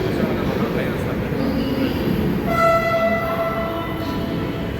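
A Chennai Metro train pulls in with a sustained horn blast sounding midway, over steady rumbling platform and rail noise, fairly near and loud.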